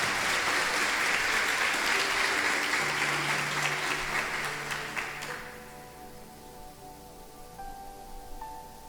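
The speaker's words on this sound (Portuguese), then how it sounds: "Você pode aplaudir ao Senhor por essa palavra?" A church congregation applauds, dense sustained clapping for about five seconds that fades away, leaving quiet room tone with faint keyboard tones.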